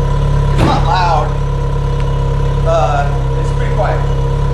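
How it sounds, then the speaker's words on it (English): Lotus Exige on its stock exhaust idling with a steady low burble, close and fairly quiet, while a person talks over it in short bursts. "It is more burbly than a stock Celica or a stock like XRS or Corolla."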